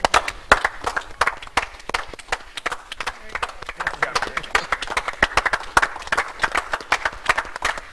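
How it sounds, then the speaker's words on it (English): Applause at a public school board of education meeting, a dense patter of many hands clapping steadily throughout, moderately close with a busy, crowded room feel. "let me lead a round of applause."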